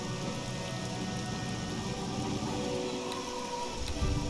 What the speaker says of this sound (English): That's because of the rain.